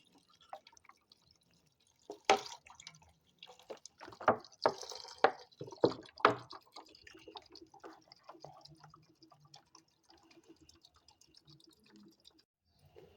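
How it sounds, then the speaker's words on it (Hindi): Water is poured into a cooking pot for beef biryani, with irregular splashes, drips and trickles, louder early on and then fading to faint dribbles. "मैं इसमें 2 केजी जो है पानी शामिल कर दूँगी।"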